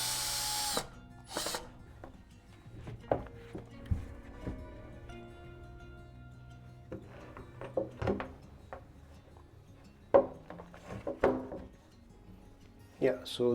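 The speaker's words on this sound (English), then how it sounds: "I'll plug in a wooden plug and push the screw to this level" A screw is driven into a wooden plug while an IKEA Trones shoe rack is assembled, giving short bursts of tool whirring and scattered knocks from the wood, with a person talking in between.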